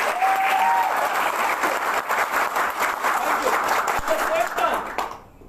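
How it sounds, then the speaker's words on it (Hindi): An audience at a business meeting claps loudly and steadily for several seconds, a dense wash of applause that fades out at the end, with faint voices underneath. "एक जोर से ताली बजाएंगे।"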